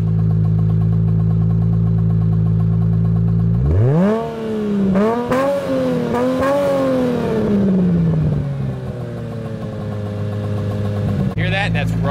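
Aston Martin DB7 V12 idling with a deep steady drone, then blipped into several sharp revs that rise and fall before settling back toward idle, close and loud, with voices in the background.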